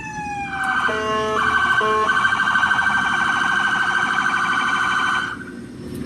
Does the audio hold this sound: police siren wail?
yes